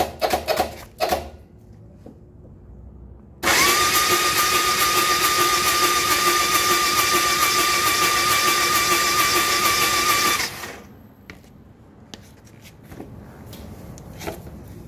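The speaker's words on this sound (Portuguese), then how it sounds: "vocês dão uma pequena partida na moto, que é para soltar o restante." A motorcycle is cranked briefly during an oil change with its ignition coil disconnected so it won't fire, giving a steady, loud whirring drone for about seven seconds between quieter clicks and handling noises.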